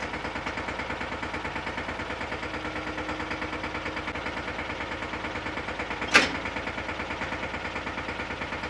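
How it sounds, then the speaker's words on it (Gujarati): A mini tractor engine idles steadily with an even, pulsing throb, with a single sharp clank partway through. "આપણે એક મિની ટ્રેક્ટર મગાવી લઈને તમને લાઈવ દેખાડું"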